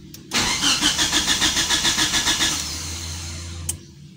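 A Mitsubishi Lancer GTI cranking without catching, the starter motor churning in a quick even rhythm for about two seconds and then stopping, loud and close with no voices.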